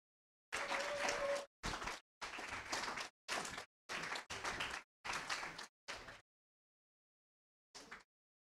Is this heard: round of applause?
yes